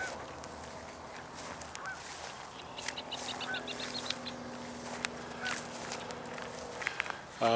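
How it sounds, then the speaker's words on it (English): Red-winged blackbirds call outdoors near water, faint and some distance away, with scattered harsh, honking notes over quiet background. "See, there's red-winged blackbirds around."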